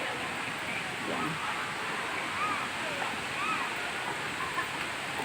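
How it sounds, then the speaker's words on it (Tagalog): Hinulugang Taktak waterfall pours with a steady, dense rushing roar close by, a constant broadband wash with faint voices underneath. "makikita nyo ngayon yung falls dito"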